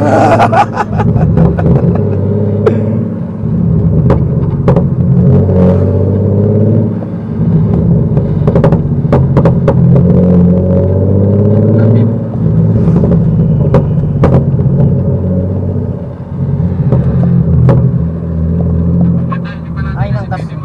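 A car engine runs steadily with low rumble as the vehicle drives during a test drive, loud and continuous throughout, with people talking over it.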